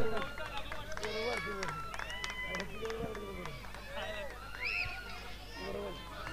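Crowd cheering and shouting at a local cricket league match, a steady roar of many voices with whistles and yells, heard alongside a commentator's voice.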